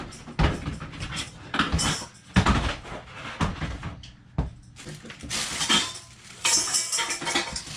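Metal pans clatter and clank as they are shifted around inside a cupboard, with a steady stream of knocks and scrapes over several seconds.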